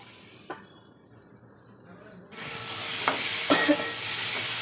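Ridge gourd and pre-fried potatoes sizzle with spices in a pan for a prawn curry, starting quiet with a single tap, then a loud steady fry with a few clinks and scrapes of stirring.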